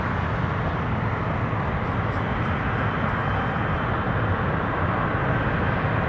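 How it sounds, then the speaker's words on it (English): A Boeing 777-300ER airliner at Toronto Pearson airport gives a continuous loud, broad roar of jet engines that holds steady throughout, with no speech audible. "777-300ER to London Heathrow"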